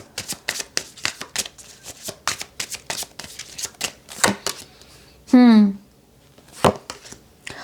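A deck of tarot cards is shuffled by hand up close in quick, rhythmic riffling snaps, broken once by a brief vocal sound before the shuffling resumes.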